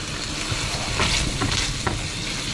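Thin slices of pancetta fry in a pot with a dense, continuous sizzle and crackle, close and steady, with faint stirring scrapes and nobody speaking.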